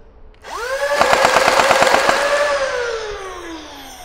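An Arduino-controlled select-fire blaster runs on full auto: a motor spins up with a rising whine, then a rapid, evenly spaced burst of shots rattles for about a second before the motor winds down. Close and loud, with no talking.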